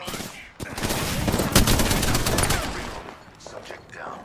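Video game gunfire, a rapid burst of loud, close shots in a sustained clatter that fades out, with game voices speaking over it.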